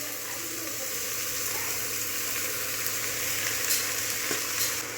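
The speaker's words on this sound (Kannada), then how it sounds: "ಇದು ಕಲ್ಲರ್ ಚೇಂಜ್ ಆಗೋವರೆಗೂ ಫ್ರೈ ಮಾಡ್ಕೊತೀನಿ" Steady sizzling of onions and horse gram (lentils) frying in a pan, a continuous crackling hiss with occasional faint stirring scrapes, no voices.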